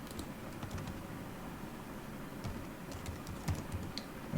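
Code is typed for a Selenium script on a computer keyboard, light scattered key taps sitting low in a constant background hum, fairly faint and close.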